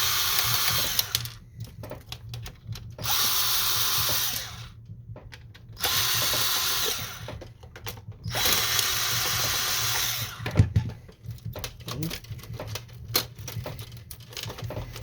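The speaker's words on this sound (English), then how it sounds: "now removing the screws on this" Screws come out of a Canon Pixma MG5320 printer under a power screwdriver, several bursts of whirring separated by pauses, then a few clicks and rattles of parts.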